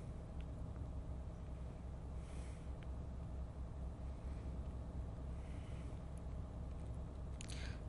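A heavy truck cruises at night in Euro Truck Simulator 2, its engine a low, steady, quiet rumble that drones evenly throughout with no talking.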